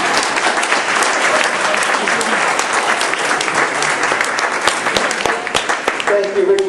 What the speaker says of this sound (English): But can we get a round of applause for Emma Lazarus?